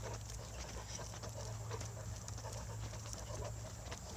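A large dog breathes in quick, rhythmic pants while walking close by, faint against a low steady hum and light outdoor background.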